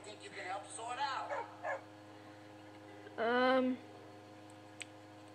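Dog barks and a drawn-out whimpering yelp from a dog character in a video game, brief bursts mixed with talk, ending in a loud sustained whine.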